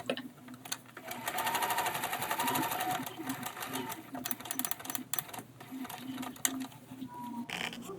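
A sewing machine runs a small zigzag stitch, sewing lace onto a t-shirt up to the neckline, a rapid close mechanical whirring and ticking in bursts with brief pauses, alone without talk.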